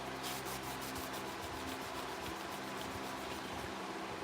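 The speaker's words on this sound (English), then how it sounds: "a little bit of sanding before I go into polish. Try to get all the scratch marks out of the brass." Steady, close rubbing of sandpaper on the brass bolster of a vintage Case whittler pocketknife, a continuous dry abrasive hiss with no pauses.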